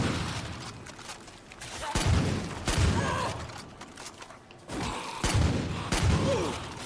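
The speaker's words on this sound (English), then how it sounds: "I was just shooting zombies." Gunfire from shooting zombies in Far Cry 5's zombie DLC, heard as a few loud, clustered bursts of shots and thuds, with quieter game ambience in between.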